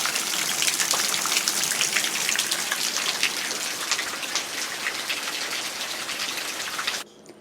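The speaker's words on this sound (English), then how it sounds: "we're getting another afternoon rain" Steady, heavy afternoon rain pours down with a dense hiss of drops pattering on surfaces, continuing evenly before cutting off abruptly near the end.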